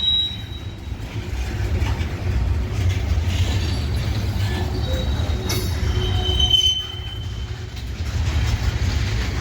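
A slow freight train rolls loudly past in Minneapolis with a heavy low rumble, intermittent squealing from its wheels and a clatter of cars, close by and continuous, with no voices.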